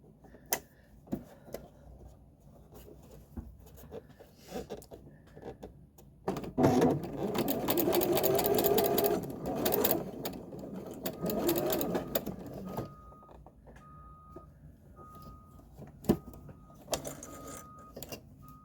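Sewing machine stitching elastic for a pair of pants, quiet handling and soft ticks at first, then a sustained whirring run of stitches that slows and stops, followed by faint fabric rustling and occasional clicks.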